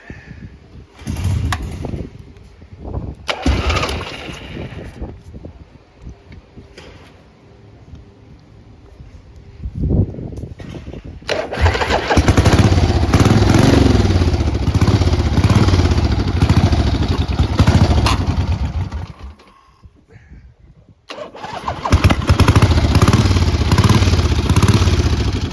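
A 1977 Harley-Davidson Ironhead Sportster 1000cc project bike, with a broken clutch cable, cranks through a few attempts with clatter, then fires into a loud, rough, loping idle. It cuts out briefly and restarts close by.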